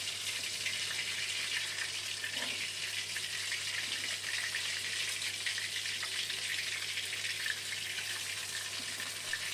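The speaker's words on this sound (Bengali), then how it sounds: "মাছের অপর পিঠটাও ভালো করে ভেজে নেব" Pabda fish frying in hot oil over a high gas flame, a steady, even sizzle and crackle holding at constant loudness from start to finish with no talking.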